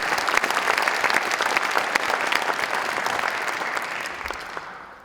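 An audience at a Board of Selectmen swearing-in ceremony applauds steadily with dense, even clapping for about five seconds, fading at the end.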